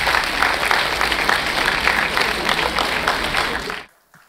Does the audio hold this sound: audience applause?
yes